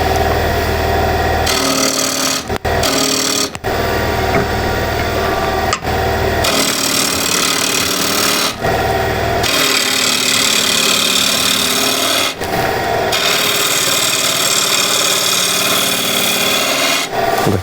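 A wooden plate turned on a wood lathe while a tool hollows a taper into it, a loud continuous rasping cut over the motor's hum, broken by several short pauses as the tool lifts away.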